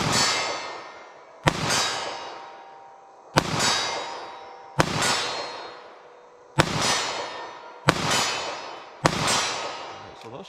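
Seven sharp gunshots from a compact pistol firing Buffalo Bore .380 ACP +P jacketed hollow-point rounds, spaced about a second or more apart, each loud crack followed by a ringing decay, at a range with no talk.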